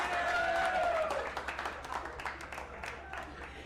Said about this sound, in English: Everybody give applause to the door.